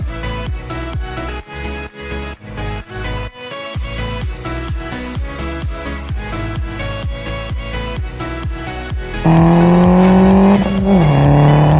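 A 2013 Mini Cooper S R56 with a straight-pipe exhaust accelerates flat out through the gears, its loud raspy engine note climbing repeatedly with sharp crackling shifts, ending in a sustained high-revving wail.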